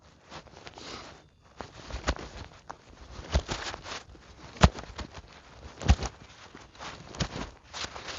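An American woodcock doing its shuffling feeding dance, with soft irregular footfall-like patters and scuffs, a few sharper taps standing out, close and fairly quiet, no voices.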